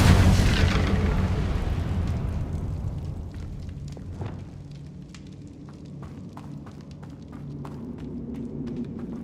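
An Incendio fire spell in the Hogwarts Legacy video game erupts as a loud, broad roaring burst that slowly fades into a lingering rumble with scattered crackles and light footsteps.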